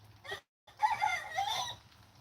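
Wet chickens clucking and calling nearby in short bursts on a cold evening at a backyard coop, with a brief pause before a longer stretch of busy vocalizing.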